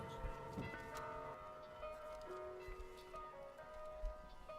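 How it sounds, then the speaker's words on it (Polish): The Freedom Bell of Radio Free Europe rings its chime, sustained ringing bell tones sounding faintly over a low, busy background within a music track. "W wielu programach Radia Wolna Europa można usłyszeć cztery nuty wygrane przez dzwon ze słowami To był Freedom Bell"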